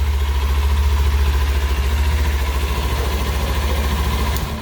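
A loud, deep Kawasaki Ninja sport motorcycle engine with its muffler removed idles steadily close by with a rough, pulsing throb, fading slightly at the very end.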